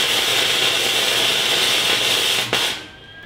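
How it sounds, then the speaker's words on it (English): Electric arc welding on steel pieces for a heavy metal shop table gives a loud, steady crackling hiss that runs close and unbroken, then cuts off sharply near the end, leaving a quieter tail. "let's finish gluing these pieces of metal together"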